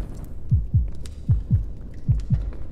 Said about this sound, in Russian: Но сердцебиение.